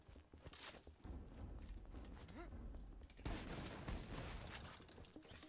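Gunfire in Borderlands 2, a steady stream of rapid shots and scattered impacts in quick succession, fairly faint overall, with a brief pause before the firing resumes louder.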